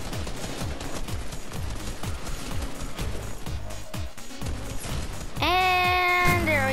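AK rifle gunfire in a video game: rapid bursts of loud, closely spaced shots for about five seconds, followed by a sustained bright ringing tone of game effects at the end.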